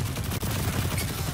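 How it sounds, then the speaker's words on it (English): Rapid automatic fire from the Ikelos SMG in a player-versus-player shooter game, a dense continuous burst of shots at steady loudness with a momentary break near the start. "This SMG is quite a bit of fun to use."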